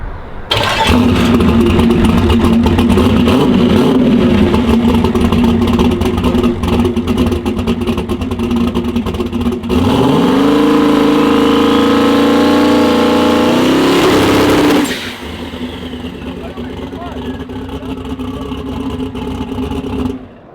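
A turbocharged car engine drones and then revs up with rising pitch, holds high under boost, and drops back to a lower idle near the end.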